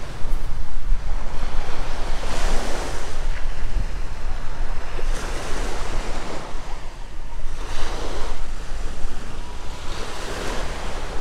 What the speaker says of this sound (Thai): ท่านผู้ชมฟังเสียงคลื่นไปเนอ